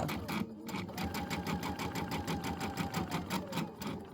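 A sewing machine, the Avenir, stitching in the ditch on a Christmas embroidery project. It gives a steady, rapid, even mechanical chatter, close and loud, running alone without pause.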